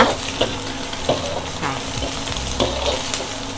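Shrimp stir-fry in a hot pan for shrimp fried rice, with a steady loud sizzle and repeated spatula scrapes and knocks against the pan close by, and no voices.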